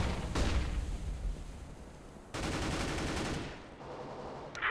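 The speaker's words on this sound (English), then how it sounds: "Flashbang." A flashbang grenade in the game Counter-Strike: Global Offensive goes off in a loud, harsh blast of broadband noise, followed by a second sustained burst that fades toward a faint high ringing tone at the end.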